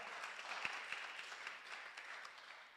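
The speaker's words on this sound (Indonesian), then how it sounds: "Berikan tepuk tangan buat Tuhan kita." A church congregation at a Sunday service applauds in a soft, steady, distant wash of clapping, with a few sharper claps standing out.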